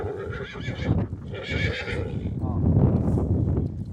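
A working horse's hooves clip-clop steadily while it pulls a horse-drawn farm implement at a farm equipment demonstration, with a whinny and nearby talk over the rumble of machinery.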